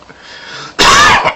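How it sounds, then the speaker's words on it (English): A single loud, harsh cough from a person close by bursts out after a moment of quiet room tone and lasts about half a second. "I wonder what made me cough."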